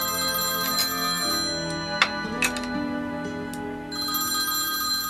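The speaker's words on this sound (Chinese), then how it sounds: "我去接个电话" A phone ringtone chimes steadily at a family dinner table, a bright electronic tone that sounds in long stretches with a brief break, clear and fairly close with only small clinks around it.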